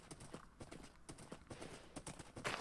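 Hooves of a horse in Minecraft clip-clop at a steady walking rhythm, soft and close, with faint game ambience.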